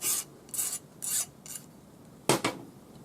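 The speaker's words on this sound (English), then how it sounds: "File the ends flat." Short rasping strokes of a file flattening the ends of sterling silver wire, four quick scrapes in a row, a pause, then two more sharp strokes close by.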